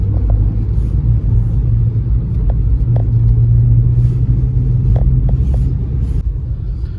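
Road traffic near the Yamuna Expressway cut by Pari Chowk in Noida makes a loud, continuous low rumble of passing vehicles, with a few faint clicks and no talk.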